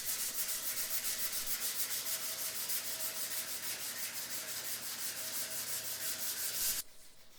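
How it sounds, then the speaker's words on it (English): Steady, rapid back-and-forth rubbing of sandpaper on a Telecaster guitar body, a continuous raspy scratch that stops abruptly near the end. "the sanding never ends."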